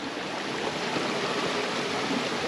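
A mountain river in the Paúl valley on Santo Antão, Cape Verde, rushes in a steady, dense broadband roar, constant and close with no voices.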